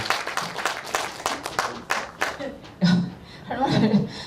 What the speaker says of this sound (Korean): 박수로 한번 응원해 주시고 인사 한번 드리시고.